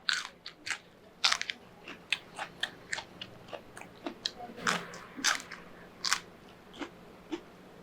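Raw okra bitten and chewed close up, a run of about a dozen sharp, crisp crunches in an irregular rhythm with brief pauses between bites.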